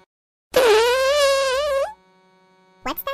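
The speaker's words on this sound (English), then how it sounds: "Did somebody fart?" A loud, drawn-out cartoon fart in a stuck elevator, a single sustained buzzing blast lasting over a second and bending upward at the end, followed by silence and then a brief voice.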